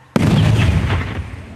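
Controlled detonation of an unexploded RPG-7 grenade by sappers, a sudden loud close blast followed by a rumbling decay over about a second, no talking.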